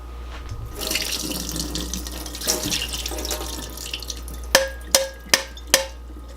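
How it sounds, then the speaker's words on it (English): Liquid from canned asparagus pours into a kitchen sink as a running splash, followed by four sharp, distinct drips or taps that ring out against the sink, heard close with no talking. "Okay, now we can drain it."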